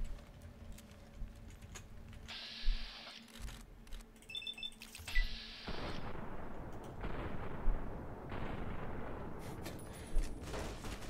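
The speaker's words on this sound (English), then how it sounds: "Let's hit him with the survivalist rifle." Survivalist rifle fire in the video game Fallout New Vegas, heard as several sharp, separate shots spaced a few seconds apart over a busy game soundscape.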